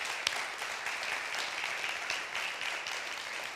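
Steady, dense applause from a school-district gathering honoring medical workers, sustained and even throughout with no voices on top.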